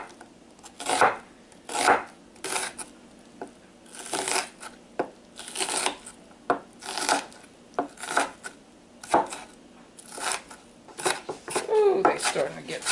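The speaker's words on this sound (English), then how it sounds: "then we're going to take a half an onion, and then we're going to finely chop this" A knife finely chops half an onion for guacamole on a board, with steady, fairly close cutting taps repeating irregularly throughout and a busier flurry of strokes near the end.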